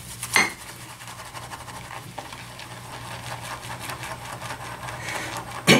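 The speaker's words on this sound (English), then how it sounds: "We're gonna empty the contents right in the bowl, and then we'll do the lather." Clinking and scraping of a shaving bowl as contents are emptied in and lathered with a Zen Shave brush, a steady whisking texture with a sharp knock at the start and another at the end.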